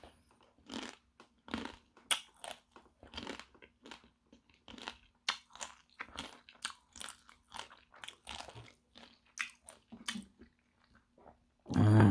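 Dry uncooked Ansungtangmyun instant ramen noodles bitten and chewed up close, a long run of sharp, irregular crunches with short pauses between bites, quiet and without talk.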